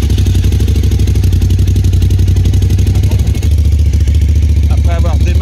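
A motorcycle engine, jump-started with a Popdeer PD-J02 booster, idles loudly and close with a steady, rapid chugging pulse. The engine note dips briefly midway, then carries on as people talk over it.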